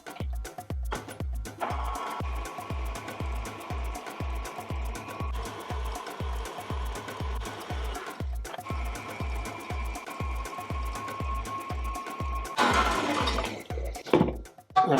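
An electric mixer whips egg whites to a frothy stage for an almond tart, a steady whirring hum with rhythmic clattering against the bowl, close and continuous, ending in a brief louder burst.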